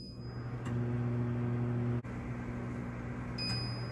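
A microwave oven steadily humming as it steams eggs with soft tofu under perforated plastic wrap, a continuous close drone with a brief dip partway through and a faint beep near the end.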